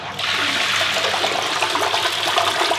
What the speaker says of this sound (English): You even got a flush.